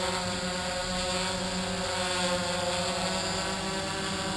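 A DJI F550 hexacopter drone hovering outdoors in a light breeze, its six rotors giving a loud, constant buzzing whine with steady layered tones and no breaks.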